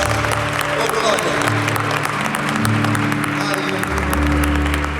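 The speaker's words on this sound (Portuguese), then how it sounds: "Quem pode nessa noite aplaudir ao Senhor bem forte?" Congregation clapping continuously in a church service, a dense steady patter of many hands at moderate loudness, with low organ or keyboard tones sustained underneath.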